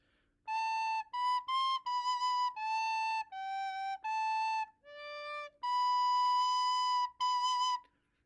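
A recorder plays a short melodic phrase of clear, pure notes, some held and smoothly connected, solo and close.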